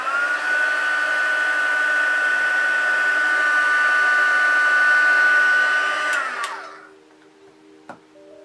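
A hair dryer runs steadily at close range for about six seconds while setting face makeup, a loud even whine and rush that winds down and stops, followed by a faint click.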